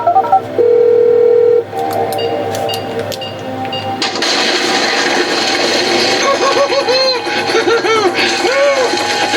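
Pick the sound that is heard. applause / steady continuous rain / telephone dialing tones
telephone dialing tones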